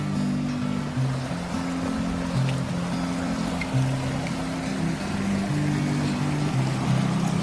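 A river flows near Tabakoshi in the Darjeeling hills, a steady broad rushing wash of water heard up close, layered with a low droning tone that runs throughout, no voices.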